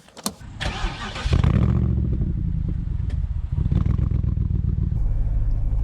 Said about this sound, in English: My first ever drive in a Morgan, any Morgan, and it just so happens to be the Aero 8 SuperSport